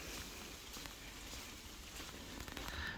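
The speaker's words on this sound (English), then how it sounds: "And it's raining." Steady rain falls by a canal near Leek on the Caldon Canal, a continuous broadband hiss with scattered patter holding at an even level throughout, with no voices.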